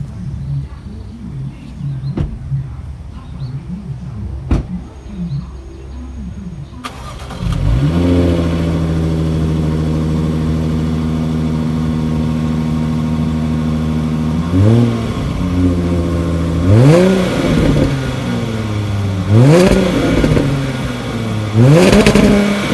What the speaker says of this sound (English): So I want to switch on the engine so that you can hear the rev sounds.